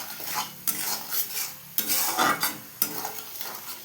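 Spice paste frying in oil over a low flame, heard as a soft sizzle beneath repeated scraping strokes of a spoon stirring around the pan, in several separate bursts with no voices.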